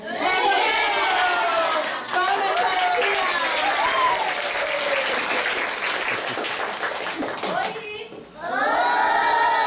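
Children at a school storytelling session in Caatingueira applaud loudly and continuously, with shouts and excited young voices mixed into the clapping almost throughout.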